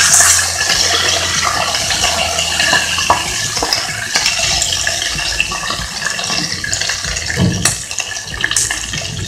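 Curry ingredients fry in a pan, a loud, continuous sizzle and crackle with occasional scrapes and clinks of a utensil against the pan, close and steady throughout.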